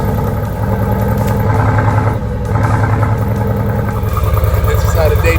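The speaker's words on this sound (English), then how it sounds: "how about that for an exhaust note?" A 2020 Mercedes-AMG GT with a 4.0-liter bi-turbo V8 burbles close by with a loud, steady, rhythmic exhaust note that briefly dips and then rises again, while a voice talks over it.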